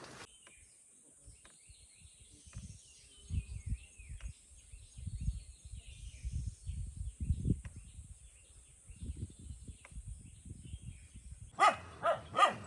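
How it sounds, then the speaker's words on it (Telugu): Two guard dogs at a farm hut bark at strangers in scattered bursts at a moderate distance, with a few louder close barks near the end and faint birds in the background. "రెండు కుక్కలు ఉన్నాయి చేను మకానికి కాపలాగా. చక్కగా కొత్తలను చూడగానే అరుస్తూ ఉంటాయి ఇవి."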